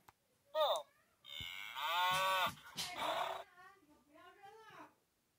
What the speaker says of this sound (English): The cow gives us milk.